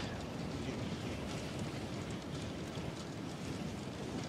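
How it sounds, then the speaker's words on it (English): Steady in-game wind roars in Star Citizen, a broad rumbling whoosh holding constant and fairly loud for the whole stretch without letting up. "It's windy."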